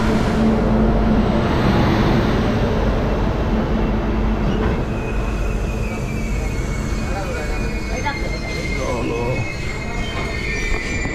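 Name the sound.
Kanchankanya Express train arriving at station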